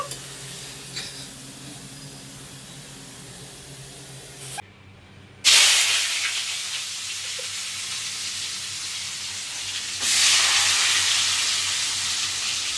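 Onions hit hot oil while cooking chow mein in a home kitchen, starting with a quiet low simmer, then a sudden loud sizzle that surges again midway and stays bright and hissing to the end.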